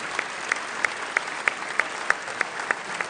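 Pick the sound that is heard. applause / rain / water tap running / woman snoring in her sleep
applause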